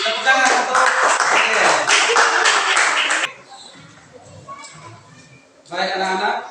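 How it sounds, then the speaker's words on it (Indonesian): Schoolchildren clap together in a classroom, a loud dense burst of hands that stops abruptly after about three seconds, followed by quieter murmuring and then a short return of voices. "Tepuk tangan untuk"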